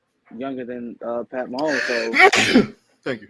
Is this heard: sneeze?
yes